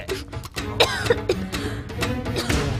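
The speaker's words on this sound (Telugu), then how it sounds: "దగ్గు వినిపించింది అంటే మన లైన్లోకి వచ్చేసిందన్నమాట" A few short coughs and throat-clearing sounds from a person in a Telugu comedy film scene, fairly close and set against faint background noise.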